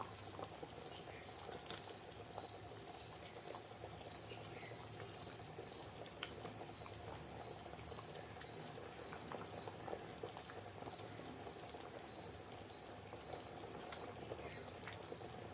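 Korameenu fish pulusu, a fish curry with the fish heads added, boils steadily in a pot, giving a soft, continuous bubbling simmer with no voices.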